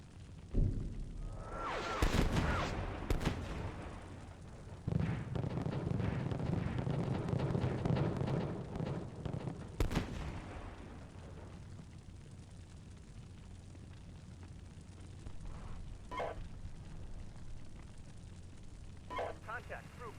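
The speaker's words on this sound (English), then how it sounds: "barrage is on target" Artillery barrage striking a target in the tank simulator Steel Beasts Pro, a winter battle scene, with deep rumbling booms and sustained roaring impacts at first, fading to a low distant rumble with occasional muffled bursts.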